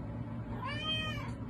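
A tabby cat lets out a single drawn-out meow, close and clear, rising and falling over about a second against a steady low background hum.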